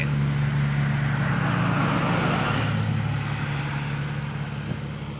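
A cage pickup truck drives along a road near Kantharalak in Sisaket, its engine giving a steady low hum with road noise that eases off slightly toward the end.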